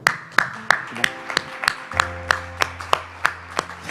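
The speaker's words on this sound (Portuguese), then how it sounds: "Eu mesmo aplaudo." A preacher claps his own hands in an evenly spaced run of about twelve sharp claps at a brisk tempo, with a low hum lingering underneath.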